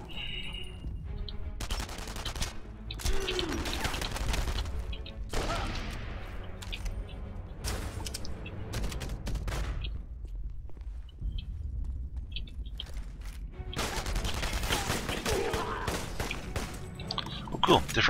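Gunfire in the World War II shooter Enemy Front, inside a telephone exchange: rapid rattling bursts of automatic fire come in repeated close volleys over a busy battle background, with someone talking between and over the shots.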